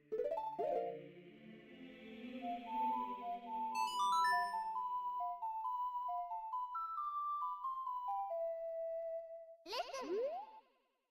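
A tune played on the ocarina in Zelda: Ocarina of Time, a clear tune of sustained pure notes climbing and stepping along, closing with a bright chime-like flourish, with no speech.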